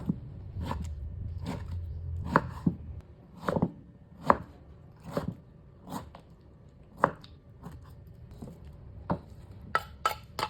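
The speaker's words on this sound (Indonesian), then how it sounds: "1 buah mangga aku mau potong kotak-kotak" A knife cuts a mango into cubes on a board, producing a series of crisp, close chops in an irregular rhythm, some quick pairs and some spaced out, with no talking.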